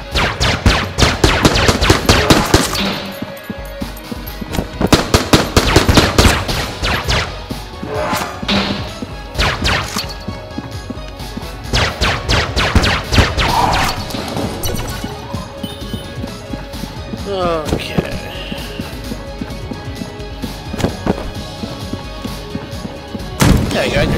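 Sharp bursts of gunfire and heavy blasts from grenades in the game Enter the Gungeon, loud and rapid, clustered at the start and returning in volleys, with thuds and crashes scattered throughout.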